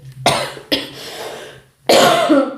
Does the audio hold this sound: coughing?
yes